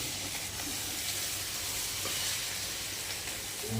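Steady, close sizzling of egg and kale frying in a wok, a continuous hiss with faint crackle and no talking.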